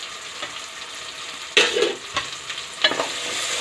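Ginger garlic paste with mint and coriander frying in hot oil, a steady close sizzle with a few sharp spoon scrapes and taps as it is stirred.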